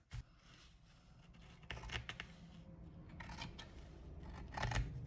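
Scissors snip through the fabric of old pants in a few quiet, crisp cuts close by, separated by soft rustling of cloth and no talk.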